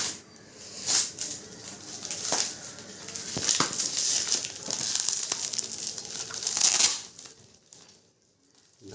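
Crinkly packaging rustled and torn open while unboxing a DIY air rifle scope and its mount, with bursts of crackling and crumpling spread over several seconds, close and fairly loud, then fading near the end.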